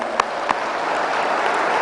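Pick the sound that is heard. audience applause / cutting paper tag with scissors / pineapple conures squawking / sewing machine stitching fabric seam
audience applause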